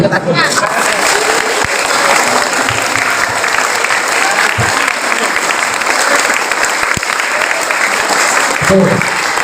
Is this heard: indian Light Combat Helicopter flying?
no